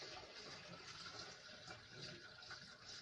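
RV antifreeze pours steadily down a camper's sink drain into the P-trap during winterizing, a continuous gurgling liquid wash that runs at moderate volume through the whole stretch with no speech.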